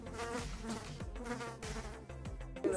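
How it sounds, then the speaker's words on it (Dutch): A housefly buzzes close around a person, a continuous wavering drone that rises and fades as it circles near the ear, with background sounds underneath. "er komt echt heel een vlieg gewoon om me"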